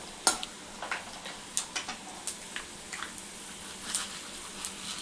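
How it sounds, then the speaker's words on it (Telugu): Mustard seeds and cumin spluttering in hot oil: about a dozen sharp, irregular pops and crackles, close and distinct, over a faint background hiss. "దీంట్లో కొంచెం జీలకర్ర ఒక హాఫ్ స్పూను కొన్ని ఆవాలు ఇవి కొంచెం ఆవాలు చిట్టపట మనాలి"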